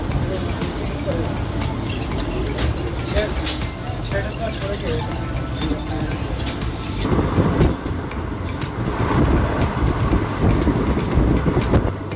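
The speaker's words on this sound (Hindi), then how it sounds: "ट्रेन का डिपार्चर हम आपको दिखा रहे हैं झांसी स्टेशन से" Train 11123 departing Jhansi station: a steady loud rumble of rolling rail cars with clattering wheels and track noise throughout, growing slightly heavier toward the end, with a voice talking over it.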